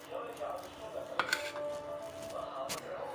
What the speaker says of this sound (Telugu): ఒక ప్యాన్ తీసుకొని